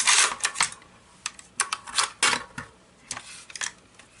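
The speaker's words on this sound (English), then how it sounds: "Disassembly begins with making sure the gun is cleared first and removing the magazine." A S&W M&P 15 Sport II rifle being cleared on a tabletop, its magazine removed, giving a string of sharp metallic clicks and clacks, close and crisp, with brief pauses between.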